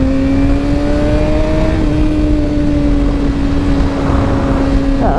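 A loud engine drones steadily nearby, its pitch sliding slightly lower as a vehicle speeds past on the road, with a sharper burst of noise near the end.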